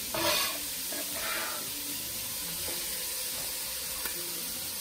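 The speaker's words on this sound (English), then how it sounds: "When you get that sizzle." Bell pepper and onion sizzle steadily in a hot pot, a continuous bright hiss with a brief louder burst at the start as they hit the heat.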